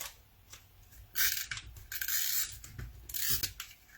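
Scissors snip through a strip of quilting fabric in several short, crisp cuts with brief pauses between them, close and quiet, with no voices.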